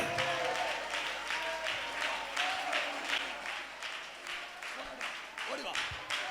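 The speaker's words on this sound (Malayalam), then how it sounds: "കരമടിച്ച് കരമടിച്ച് സഭയൊന്ന് കൈയടിച്ച്" A church congregation claps hands in steady rhythm through a healing service, the sustained clapping running under a pastor's sung and spoken voice with music in the background.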